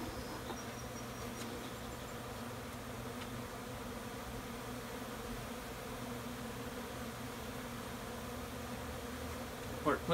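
Honey bees from an opened backyard hive hum in a steady low drone that fills the air throughout, fairly faint and constant, with a couple of soft knocks near the end.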